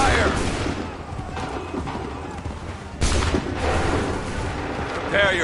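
Volleys of musket fire ring out in the Assassin's Creed 3 video game, with two loud bursts of massed shots about three seconds apart, each trailing into a dense, rumbling battlefield din under shouted commands.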